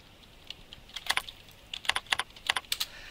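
Keys clatter on a computer keyboard in irregular bursts of quick, light taps, close and fairly quiet against a faint background hiss.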